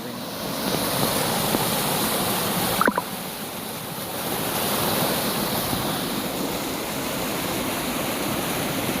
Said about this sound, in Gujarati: જોરદાર પાણી આવે આ હવે બંધ ઉપરથી પાણી ભરાય